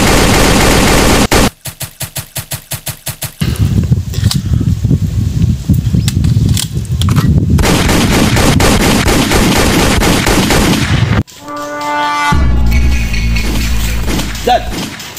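Loud bursts of gunfire crackle in rapid volleys, with a brief staccato run of shots, then continued heavy firing and a shifting, chaotic din.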